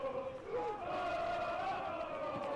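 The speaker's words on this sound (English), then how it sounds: "Crowd getting into it here this afternoon as well." A college football stadium crowd in Manchester roars in a sustained, distant-sounding cheer with scattered shouts, a broadcaster's voice faintly woven in.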